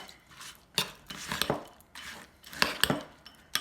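A metal spoon scrapes and clinks against a bowl while yogurt, banana and cinnamon are stirred together, several quick close taps and scrapes with short pauses between, no voices.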